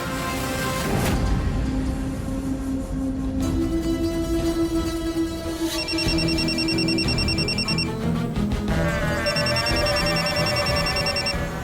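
A telephone rings in repeated electronic bursts inside a house in a Hindi family drama, sounding clearly over a sustained dramatic music score with no talking.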